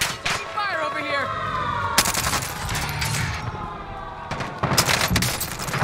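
Rapid gunfire bursts crackle in the video game Call of Duty Warzone, several loud automatic volleys with pauses between them, heard up close over game background sounds.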